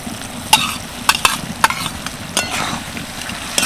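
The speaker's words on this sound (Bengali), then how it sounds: "ভালো করে মিশিয়ে নিই।" Fried cauliflower and partly boiled potatoes are stirred in a pan, with sharp scraping strokes of a utensil over a constant close sizzle, about six distinct stirs in quick irregular rhythm.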